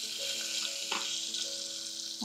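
Curry leaves hit hot tempering oil for Sunday-special bagara rice and sizzle loudly and steadily, a close, continuous frying hiss with a faint scrape of stirring.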